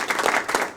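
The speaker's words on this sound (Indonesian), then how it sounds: "Tepuk tangan dong buat Indonesia kita." A studio audience at an Indonesian political debate show breaks into a short, dense burst of applause, many hands clapping together in a steady wash of sound.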